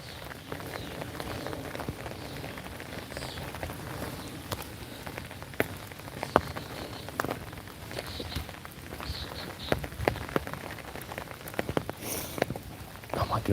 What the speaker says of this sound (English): we're getting some rain on the screen